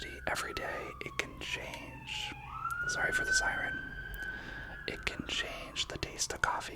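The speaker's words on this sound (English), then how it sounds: "Sorry for the siren." A wailing siren rises and falls in pitch across the clip while a person speaks softly over it.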